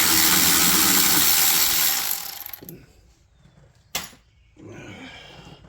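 An electric ratchet whirs loudly as it runs brake bolts out on a 1983 Toyota Tercel wagon. The whir winds down, a short sharp burst follows, and then a second run starts.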